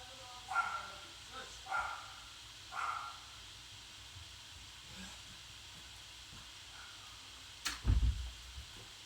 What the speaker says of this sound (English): Yay, dogs.